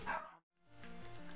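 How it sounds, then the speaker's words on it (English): Dogs barking close by in a loud burst, then a brief silence before more yipping and whining follows. "they were barking at literally nothing"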